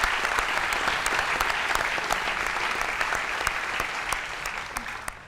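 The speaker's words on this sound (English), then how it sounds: "Big round of applause once again." A conference audience at UI5con 2024 gives a round of applause for the sponsors, a fairly even wash of many hands clapping at moderate distance, continuous across the whole stretch with scattered sharper claps.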